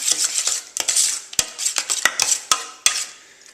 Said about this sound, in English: Now we're going to mix that together.